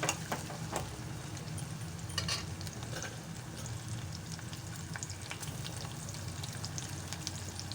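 Steady close sizzling and crackling fills a pan frying ingredients for a chana dal chicken curry, continuous with scattered sharper pops and no talking.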